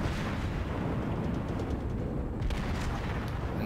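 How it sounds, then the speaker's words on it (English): Warship main guns firing in the World of Warships naval game, a dense continuous roar of booming artillery blasts that fills the whole stretch, loud and close with no talking. "Now come on, my mighty guns."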